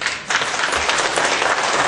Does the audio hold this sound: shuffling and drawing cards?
no